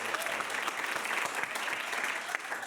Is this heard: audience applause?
yes